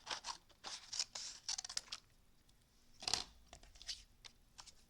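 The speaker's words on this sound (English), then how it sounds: "Now I'll need to trim it to die cut it out." Scissors trim around a stamped paper flower, giving short bursts of crisp snipping and paper rustle, close by, with brief pauses between cuts.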